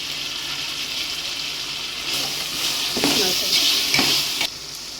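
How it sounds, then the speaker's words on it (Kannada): Tomatoes frying in oil as mint and coriander leaves go in for a mushroom biryani, a close, steady sizzle with scraping stirs and a few louder splutters near the end. "ಟೊಮಾಟೊನ ಚೆನ್ನಾಗಿ ಫ್ರೈ ಮಾಡೋಣ. ಈಗ ಪುದೀನ ಹಾಕ್ಕೊಳ್ಳೋಣ, ಕೊತ್ತಂಬರಿ ಸೊಪ್ಪು ಹಾಕ್ಕೊಳ್ಳೋಣ."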